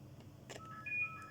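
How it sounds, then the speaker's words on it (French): A telephone rings faintly in a room, its electronic tones sounding in short steady pitches over low background hum. "je laisse sonner le téléphone"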